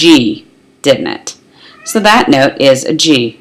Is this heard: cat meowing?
yes